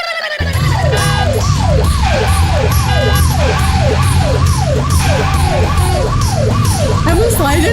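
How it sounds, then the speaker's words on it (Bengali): A loud, close ambulance siren wails in fast, regular rising-and-falling sweeps that repeat without a break, over a low vehicle rumble. "অ্যাম্বুলেন্সের মতো আওয়াজ, খুব বাজে সাইরেন"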